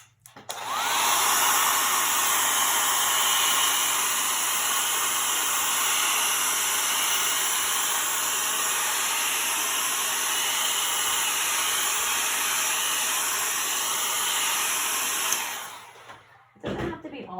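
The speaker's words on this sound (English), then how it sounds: "get the blow dryer." A blow dryer roars steadily at close range with a constant airy hiss, then switches off near the end, leaving a few faint handling sounds.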